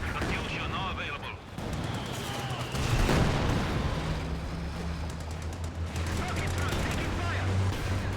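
Artillery barrage and scattered gunfire in a World War II strategy game match, a dense rumbling bombardment with sharp reports running continuously under a commentator's voice.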